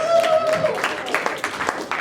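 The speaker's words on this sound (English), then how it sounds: "Round of applause." A round of applause from a summer school audience: a voice speaks at the start, then a thin scatter of claps builds into light, brief clapping from a modest crowd.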